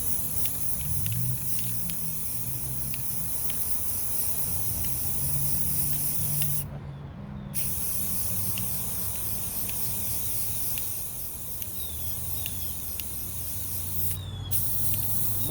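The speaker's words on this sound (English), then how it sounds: "I'm about 12 inches or so away from the glitter itself with the spray" Steady, close hiss of spray sealant from about a foot away, coating a chunky glitter tumbler, running in long continuous bursts with two brief pauses.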